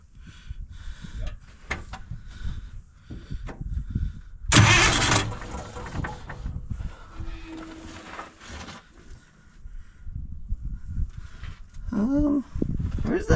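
A truck engine is bumped over briefly on the starter during clutch repair work in a shop, with a loud burst of cranking amid clatter and people talking nearby.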